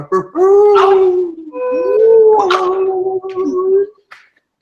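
Several voices imitate a bloodhound's long mournful howl, two drawn-out rising and falling howls close and loud, fading to quiet at the end.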